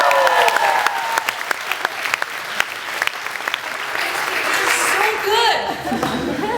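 An audience claps warmly and steadily, a dense wash of applause with scattered cheers, and a voice speaks over it toward the end.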